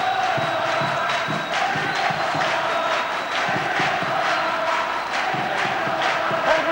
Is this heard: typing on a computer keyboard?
no